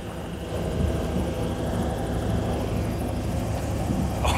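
A helicopter flies over the River Thames in London in 1983, its loud, steady rotor and engine drone close and continuous throughout, with no voices.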